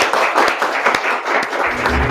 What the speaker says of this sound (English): please give Emilia a big applause to encourage her.